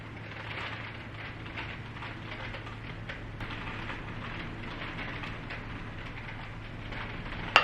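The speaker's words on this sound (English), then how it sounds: "If you listen closely, you can hear the rain." Rain falls steadily outside an apartment, a faint, even hiss of drops with no breaks, heard from indoors and ending on a small sharp knock.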